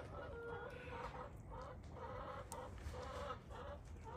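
Hens cluck together inside a coop on a cool morning before an automatic door opens, a continuous busy chatter of overlapping calls, quiet and slightly distant.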